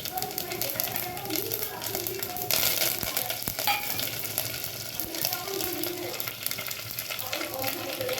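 Spices tempering in hot oil for sambar, a continuous loud sizzle with stirring scrapes and occasional clatter, close by, while a person talks over it.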